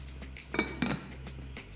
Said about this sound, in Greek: Θα καπακώσω.